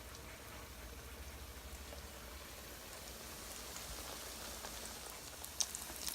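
Eggplant slices fry in oil in a home kitchen, a soft, even sizzle with scattered crackles and pops, faint and steady throughout.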